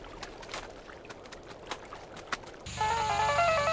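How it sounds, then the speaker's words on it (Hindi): A phone ringtone starts abruptly partway through, a loud electronic melody that rings out on its own after quieter background noise. "ये स्मिता इस वक्त फोन क्यों कर रही है?"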